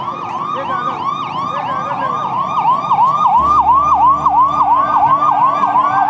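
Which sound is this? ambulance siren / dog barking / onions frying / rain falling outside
ambulance siren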